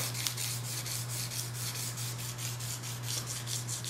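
A scratch on a Kimber pistol is sanded in quick, even back-and-forth rubbing strokes, close and steady over a low background hum.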